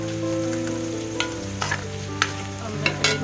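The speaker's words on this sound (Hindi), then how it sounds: "प्याज हमारा फ्राई हो गया।" Onions frying in a pan give a continuous sizzle, with several clear spatula scrapes and taps spaced through the second half, close by, under a faint low background hum and no talking.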